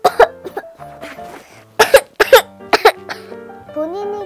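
Several sharp coughs burst out one after another, loud and close, with throat-clearing sounds between them over soft background music.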